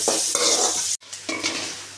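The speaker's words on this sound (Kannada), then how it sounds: "ಈಗ 1/2 ಈರುಳ್ಳಿ ಮತ್ತು ಇದರಲ್ಲಿ ಕರಿಬೇವು ಉಂಟು, ಇದು ಸ್ವಲ್ಪ ಫ್ರೈ ಆಗಲಿ." Onion, curry leaves and garlic fry in a pan, a loud close sizzle under brisk scraping strokes, with a sudden brief drop near the middle before the crackle and stirring resume.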